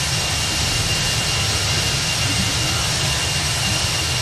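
Jet engines of an Airbus A321 in the X-Plane 11 flight simulator, heard as a loud, steady cockpit roar with a deep low rumble and broad hiss, unbroken throughout.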